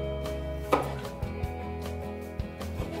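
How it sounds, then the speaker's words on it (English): Garlic sliced with a knife on a cutting board for a Moroccan chickpea and butternut squash curry, a handful of close, dull knife taps spaced irregularly over a low steady background hum, with no talking. "When you're slicing it, you want to just not slice it too thin, otherwise it can burn the garlic"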